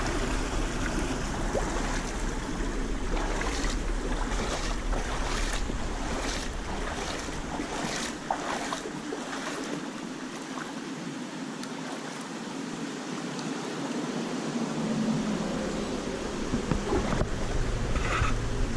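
Someone wades through a shallow inner-city creek, boots sloshing and water splashing in irregular bursts over a continuous rushing flow, close to the microphone with some wind buffeting and no speech.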